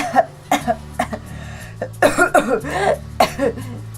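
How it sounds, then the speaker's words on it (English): A sick fox coughs in the video game Monster Loves You, a series of harsh, hacking coughs and throat-clearing bursts in an uneven rhythm, fairly close and loud against a steady low background tone. "leans against a rock and coughs"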